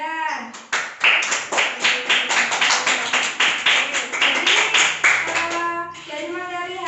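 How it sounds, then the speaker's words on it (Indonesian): Students in a classroom clap their hands for a classmate, a brisk burst of rhythmic applause lasting several seconds between voices at the start and end. "tepuk tangan untuk Wildan"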